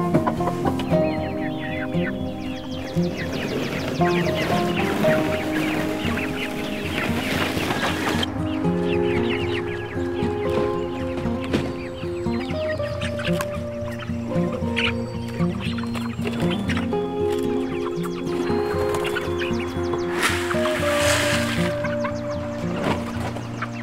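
Farm chickens in a chicken tractor clucking continuously up close, several birds overlapping in a steady busy chorus with no talk over it.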